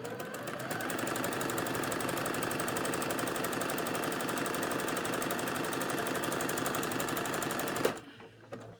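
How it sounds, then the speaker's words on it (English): A sewing machine stitches the side seam of a bodice, running in a steady, fast, continuous buzz for about eight seconds before stopping abruptly, followed by a couple of faint handling clicks. "we're going to sew down this side"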